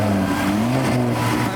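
A Ford car engine revs at a Ford car show, a loud, close throaty roar with pitch rising and falling as the throttle is blipped, with no speech over it.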